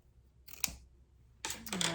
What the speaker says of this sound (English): Cut it right there.